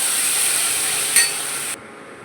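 Potatoes sizzling in leftover oil in a pan for a traditional Bengali lau shak dish, a steady close hiss that briefly swells with a clink of stirring and then cuts off abruptly.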